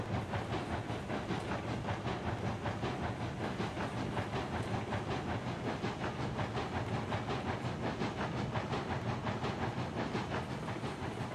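A train in the video game Railroads Online rolls steadily along rails with a continuous rhythmic clatter and hiss, sustained and even, with no talking.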